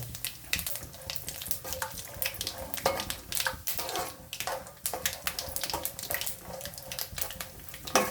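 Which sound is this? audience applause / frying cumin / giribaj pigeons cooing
frying cumin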